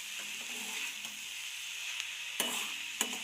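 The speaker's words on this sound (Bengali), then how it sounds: "আঁচটাকে কমিয়ে নিয়ে রুটিগুলো দিয়ে সবজি দিয়ে নাড়াচাড়া করবো খুব ভালোভাবে।" Roti strips and winter vegetables are stirred in a pan over low heat, a soft, steady sizzle broken by two sharper scrapes of the spatula toward the end.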